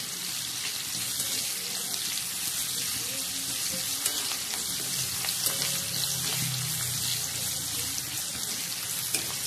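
Green chillies hit hot oil that already holds garlic, giving a steady bright hiss of sizzling that carries throughout at moderate loudness, with faint scattered pops and a low murmur in the background.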